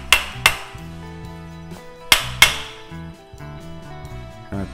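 Hammer striking a Japanese knife to seat its blade into a new handle, four sharp taps in two quick pairs, close and loud over a low background tone.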